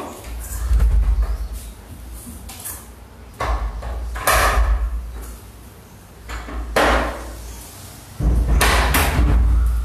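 A door banging during a live yoga session indoors, several loud thuds and slams spaced irregularly, near and distinct over a quiet room.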